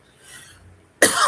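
A single sharp cough bursts out near the microphone after a quiet lull, loud and abrupt with a short raspy tail.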